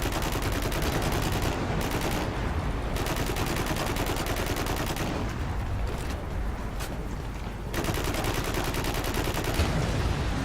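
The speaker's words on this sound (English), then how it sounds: "See that stalker's appeared that's obsessed with shooting me with a plasma cannon." Rapid plasma cannon fire pounds away in Warhammer 40000: Eternal Crusade, a dense, continuous barrage of loud blasts layered with battle noise, briefly thinning in a couple of spots before resuming at full intensity.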